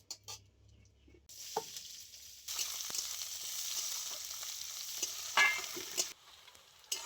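Chopped onions hit hot oil already seasoned with a bay leaf and whole cumin, bursting into a loud, steady sizzle that rises sharply and holds close up, with faint stirring.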